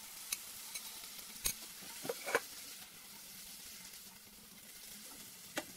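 Fermented tofu sizzling in a frying pan with onion and tomato, a steady soft frying hiss with several brief clicks and scrapes from stirring, close and alone without voices.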